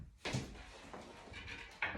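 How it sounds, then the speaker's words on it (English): An office door is pushed shut, giving a couple of dull knocks and a firmer thud near the end amid light handling noise. "I'm going to shut that door"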